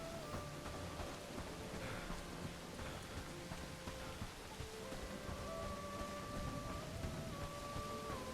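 Rain falls steadily in the medieval game Bellwright, a soft, even patter across the whole clip with faint tonal music lines drifting underneath and no one talking.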